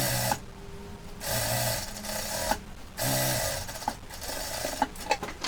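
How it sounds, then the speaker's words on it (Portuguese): Sewing machine stitching a seam along the presser-foot edge on a cotton dish towel hem, with several bursts of steady whirring separated by short pauses and light handling clicks, close and fairly loud. "nós vamos passar uma costura aqui na medida do pé de máquina"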